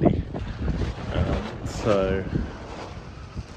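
Steady outdoor wind noise rushing across the microphone on a roof during roofing work, with a person speaking briefly over it.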